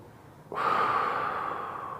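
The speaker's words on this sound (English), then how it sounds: "you have to stay calm, breathe. 6 seconds in, hold it for 3 seconds." One slow, controlled breath during a calm breathing exercise, a sudden soft intake that turns into a long, steady airy exhale, close and fairly quiet, with nobody speaking.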